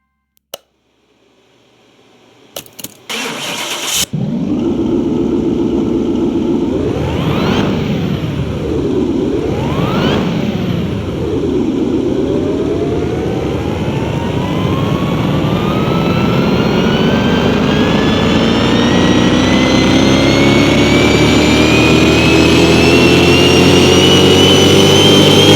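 A simulated 1300-horsepower Dodge Challenger Widebody engine in the Car Mechanic Simulator 2021 video game, starting after a few clicks and running on a dyno, revving twice, then climbing in one long, loud, steady pull to high revs.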